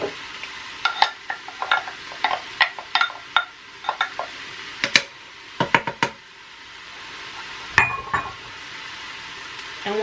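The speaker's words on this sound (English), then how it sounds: "I'm going to just saute it in the pan." Green, yellow and red peppers sautéing in a pan for a three-bean chili, with repeated light scraping and stirring knocks over a soft sizzle, close and fairly clear, with no talking.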